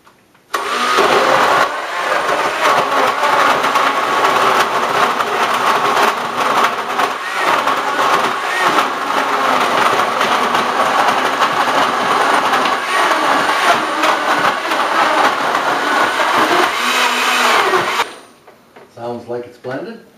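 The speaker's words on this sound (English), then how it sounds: "Blender up." A blender whirs loudly and steadily for about seventeen seconds, blending strawberries with sugar for homemade ice cream, then cuts off abruptly, leaving a few faint clatters.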